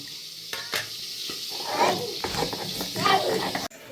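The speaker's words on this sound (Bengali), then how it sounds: "এদিকে সবজি ভাজা হচ্ছে" Vegetables sizzle in oil in a pan, a steady hiss under continual speech, with a few sharp clinks from a utensil and a sudden cut near the end.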